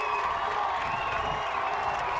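Crowd at a boys' high school soccer state championship cheering after a penalty rebound goal, a steady, fairly loud roar of voices and applause filling the whole moment.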